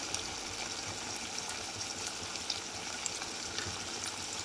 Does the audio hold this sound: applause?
no